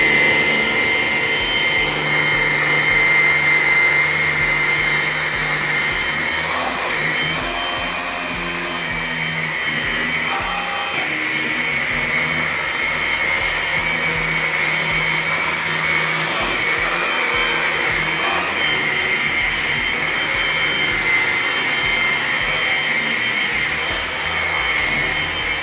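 A Hoover ONEPWR cordless vacuum cleaner runs steadily and close up, a continuous motor whine with a high airflow hiss, holding level throughout with slight shifts in pitch and no talking.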